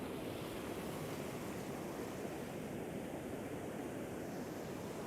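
Sea waves wash continuously against the coast, a dense, steady roar of surf with some wind, close and fairly loud throughout with no voices.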